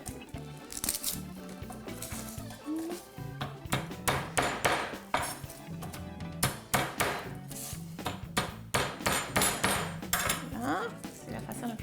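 Garlic cloves are crushed to loosen their peels, making a series of sharp knocks and clattering thuds that start sparse and then come in quick irregular bursts, close and fairly loud.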